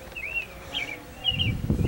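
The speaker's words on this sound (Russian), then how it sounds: "Птички поют." Birds chirp in short, thin calls outdoors on a warm June day, with light rustling underneath and no talking.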